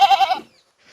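A goat gives a short, wavering bleat up close, lasting under half a second and then fading into near silence.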